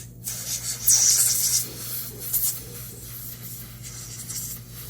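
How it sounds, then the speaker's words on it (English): Compressed air duster blowing solvent off a disassembled part: a short, close hiss of air bursting for about a second, followed by fainter puffs and handling sounds. "usually for this we use a duster. You can also use N2 gas,"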